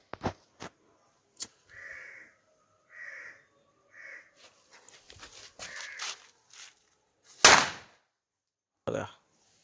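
A firecracker goes off in a village the day after Diwali: one sharp, loud bang late on, then a shorter pop, with faint bird-like calls and scattered small knocks before it.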